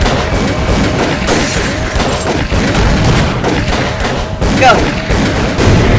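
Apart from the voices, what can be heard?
gunfire in Call of Cthulhu: Dark Corners of the Earth video game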